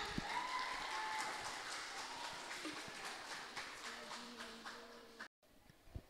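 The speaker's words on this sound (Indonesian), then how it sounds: "Berikan tepukan yang meriah sekali lagi untuk seni karawitan." Applause for a karawitan (Javanese gamelan) performance at a school dance and karawitan event: moderate scattered clapping with some tonal sounds in the background, fading toward the end before a brief dropout.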